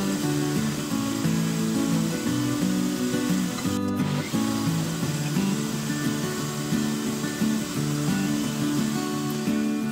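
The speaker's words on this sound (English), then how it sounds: "I just decided to plunge all the way down using the milling" A milling cutter plunges into a steam engine cylinder barrel, giving a steady, loud machining drone with strong low harmonic tones that shift pitch slightly, uninterrupted apart from a brief break near the middle, with no talk.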